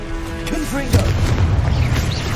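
Blasting-spell explosion in the Hogwarts Legacy video game lands as a deep boom amid game sound effects and a spoken voice, followed by rumbling combat noise.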